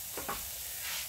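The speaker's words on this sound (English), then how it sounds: "now my pan is, I think, hot. Yep. Put my onions in there." Chopped onions hit a hot pan and give off a short, steady close sizzle with a faint crackle, no voices over it.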